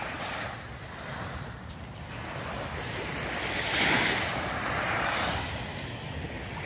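Steady Gulf of Mexico surf washes onto a beach in broad, hissing swells, building to a louder surge midway before settling back, with some wind rumbling against the microphone.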